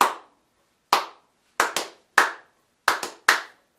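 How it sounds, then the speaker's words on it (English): Hands clap out a guitar strum rhythm, practising the pattern from a Wild Horses lesson: seven sharp, close claps in an uneven pattern, some in quick pairs, with nothing else sounding. "Try clapping."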